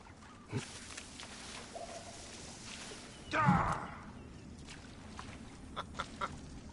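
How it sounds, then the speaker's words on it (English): A bird in Assassin's Creed Origins lets out one brief squawking call midway, rising over a steady low ambient game background with a few faint scattered ticks. "Wanted to hit that bird."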